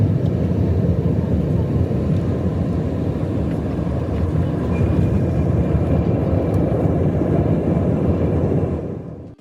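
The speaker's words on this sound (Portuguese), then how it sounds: "2 aviões civis desceram para pousar exatamente ao mesmo tempo" A steady, loud low roar of civil airliners coming in to land at San Francisco International Airport, heard as an even engine and airflow rumble without a break for over nine seconds before fading at the very end.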